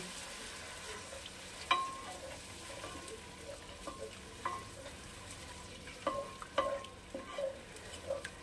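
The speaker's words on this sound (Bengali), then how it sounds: "এইবারে এই মশলাটাকে কষানোর জন্য দিয়ে দেব সামান্য পরিমাণে জল," A spice paste with a little added water is being sautéed in a pan for a Bengali capsicum dish. A soft, quiet sizzle runs throughout, broken by scattered scraping and stirring clicks from a utensil.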